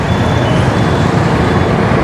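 A scooter in power mode accelerates at full throttle on an open road, with a loud, continuous roar of wind and motor and a faint steady whine above it.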